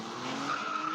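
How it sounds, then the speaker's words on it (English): Tires of an Aston Martin DB9 skid in a long continuous squeal, loud and close, with a steady tonal screech that rises slightly in pitch as it holds. "Shaw comes back in an Aston Martin DB9,"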